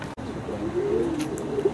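A pigeon coos once in a low, soft, rolling call, close by and moderately loud, with faint background noise and no speech.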